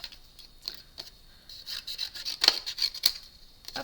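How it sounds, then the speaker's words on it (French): Scissors snip through white paper stamped in black ink, trimming around printed text in a craft project; close, crisp, irregular cuts with small rustles of paper, alone without talk. "Je prends mes super ciseaux."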